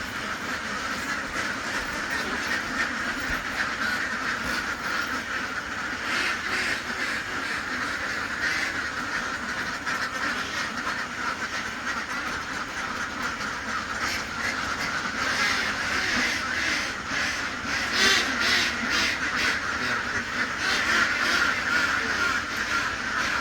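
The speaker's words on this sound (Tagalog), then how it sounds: "Ayan po ang kapaligiran ng mga itik. Ang mga itik dito sa probinsya." A large flock of domestic ducks in a rural provincial yard makes a dense, continuous wash of quacking and chatter that stays loud and steady throughout, with no talking.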